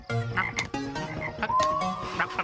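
Girl imitating a frog's croak in a children's cartoon scene, a string of short, voiced croaking calls in a rapid uneven rhythm, close and clear, with no other talk.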